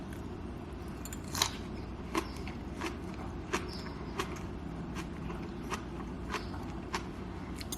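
Crunchy home-cooked bok choy being eaten, with a series of sharp, close bites and crunches at irregular intervals over a steady low background hum.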